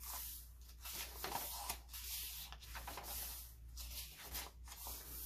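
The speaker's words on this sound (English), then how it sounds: "Here is a piece of coffee dyed tracing paper. Love that crinkly sound." Coffee-dyed tracing paper crinkles and rustles in repeated soft bursts, close and quiet, with no voices.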